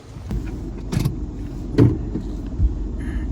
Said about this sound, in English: We're driving through the neighborhood now.